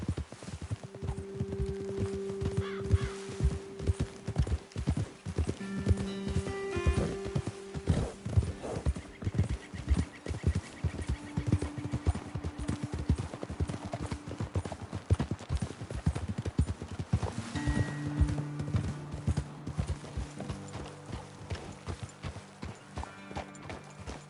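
Horse hooves clip-clop steadily at a walking pace in the video game Red Dead Redemption 2, with occasional whinnies and a light musical backdrop underneath.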